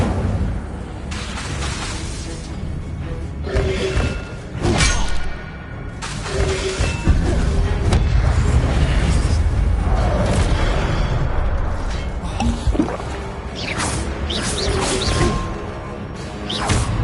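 Fire spell cast repeatedly in Hogwarts Legacy, a dense, loud stretch of whooshing bursts and crackling impacts layered over constant game noise and music, with several sharp swells throughout.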